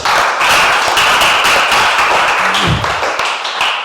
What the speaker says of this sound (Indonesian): Oke, berikan tepuk tangan dulu untuk Henry